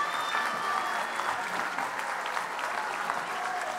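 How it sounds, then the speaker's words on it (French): A crowd at the WAC 2019 opening ceremony applauds the French team. The clapping is even and steady, heard from a moderate distance for a few seconds. "on peut les applaudir tous bien fort."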